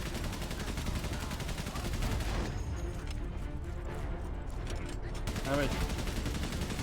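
Gunfire in the Valiant Hearts video game, a dense rattle of shots in a war scene running under a man's brief spoken remark.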